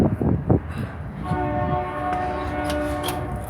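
A CP freight hopper train rolls past with a steady low rumble, and its horn sounds a sustained, loud chord that holds through most of the passage.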